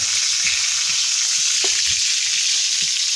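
Peshawari chapli kabab frying in oil in a pan gives a loud, steady, bright sizzle throughout, with soft low knocks from the pan underneath and no talking.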